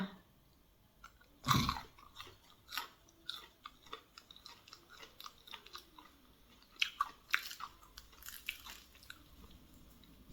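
Someone chews crispy Thai fried dough (patongko), producing a loud first crunch followed by a run of irregular close-up crunching and chewing bites, with no talking.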